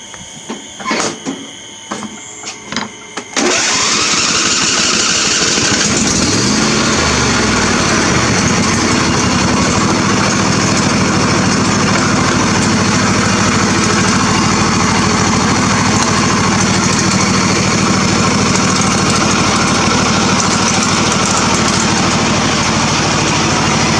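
A John Deere tractor fitted with dual wheels cranks in a few stuttering attempts, then catches and settles into a steady, loud, continuous idle close by, with no talking.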